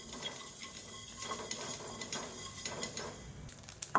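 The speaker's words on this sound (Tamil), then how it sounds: "இப்போ பாருங்கள், கடுகு நல்லா வெடிக்க ஆரம்பிக்குது." Mustard seeds roast in a pan with cinnamon, cardamom and cloves, crackling and spluttering lightly amid clinking and stirring, ending in a few sharper pops.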